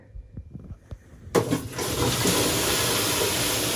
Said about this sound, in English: you can hear all the water going through the 1-inch pipe out.